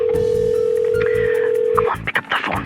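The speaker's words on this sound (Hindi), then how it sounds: "pick up the phone, pick up the phone," A steady telephone ring tone drones unanswered for nearly two seconds, then cuts off and gives way to brief muffled clicks and noise.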